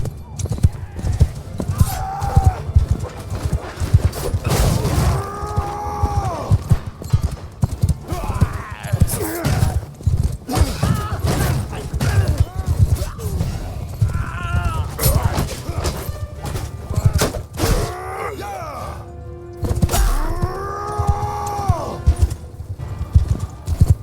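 Horses galloping in the video game Bannerlord: War Sails, a steady clatter of hooves with occasional whinnies during a battle, loud and continuous, with a voice talking over the action.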